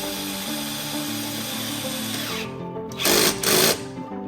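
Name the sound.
drill tightening throttle body hose clamp on Porsche 911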